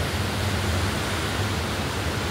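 A flooded river swollen by upstream rain rushes past as a steady, dense roar of water, loud and unbroken, with no voices.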